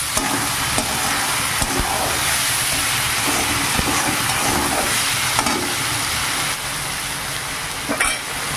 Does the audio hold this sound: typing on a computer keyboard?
no